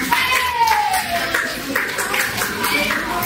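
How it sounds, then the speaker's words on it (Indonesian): Students in a junior-high Indonesian-language class clap together in a burst of overlapping, close applause, with young voices chattering over it. "tepuk buat kita semua."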